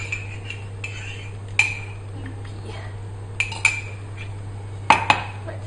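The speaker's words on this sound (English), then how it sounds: "Right, keep stirring, so you burn the bottom of the saucepan." A spoon stirs chocolate cream mixture in a saucepan, giving scattered metallic clinks and scrapes against the pan over a low steady hum, with a few sharper taps near the end.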